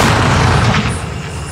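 A large Sivakasi firecracker rocket explodes high in the air, a heavy booming blast that rolls and fades into a rumbling tail.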